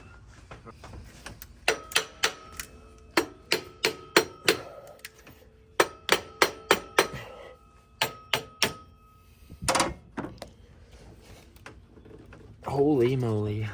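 Repeated sharp metallic hammer strikes in bursts of several blows each, with pauses between, followed by a scraping clatter and a brief rising whine.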